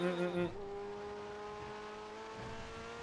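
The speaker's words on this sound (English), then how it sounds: "I like the way this car literally sounds like a fucking race car." A race-car-like engine in the GTA NoPixel game holds a steady, faint high-pitched whine that rises slightly after a brief spoken word at the start.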